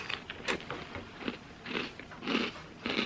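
Close crunching bites and chewing of crunchy breakfast cereal eaten as dessert, with several distinct crisp bursts at an uneven pace and no talking.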